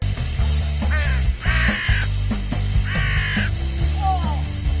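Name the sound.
crow cawing in cartoon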